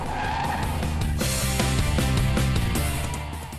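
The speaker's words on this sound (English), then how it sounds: "The car's refined growl is sporty and exciting, perfect for the racetrack" A two-seater sports coupe growls hard on a racetrack, its loud engine drone running continuously alongside skidding tire squeal for a few seconds.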